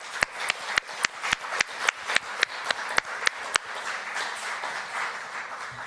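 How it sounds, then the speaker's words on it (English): A small audience at a brain-heart research event claps for the participants, with sharp, distinct near claps in a regular rhythm at first, then a softer, denser patter that fades. "So a round of applause for all of our participants too."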